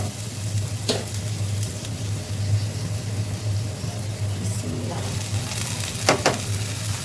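Dried Cox's Bazar shrimp and reddened onions with green chillies fry in a pan for a shrimp shutki bhaji, a steady broad sizzle with a low hum beneath and a few brief scrapes, no talking.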